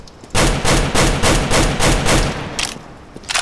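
Rapid rifle fire from the AK-47 or Colt in CS:GO, about six loud, closely spaced shots in a quick burst, followed by a pause and a couple of further shots near the end.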